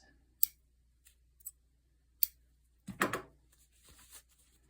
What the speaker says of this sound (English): Just trim that excess.